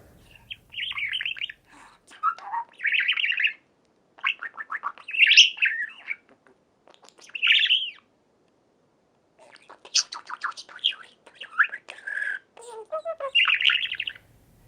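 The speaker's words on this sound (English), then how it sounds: "Let's listen to a quick excerpt of that little bird sound." Small bird chirping and singing in bright, quick phrases, several bursts of twittering song separated by short pauses, close and clear.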